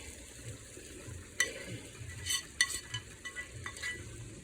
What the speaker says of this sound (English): I'm going to give it a nice little stir.